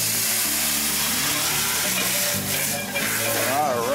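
A hot pan sizzles loudly and steadily after tequila has been flambéed and the flame has died down, with stirring scrapes and a continuous crackle, no voices.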